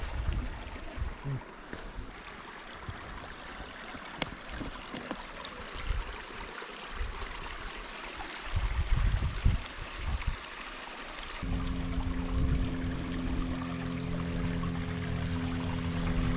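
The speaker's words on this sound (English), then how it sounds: "That's a lot of water right there coming down." Water rushes and gurgles along a stream in Coyote Canyon, Anza-Borrego, a continuous rough flow with a steadier, hum-like rush taking over near the end.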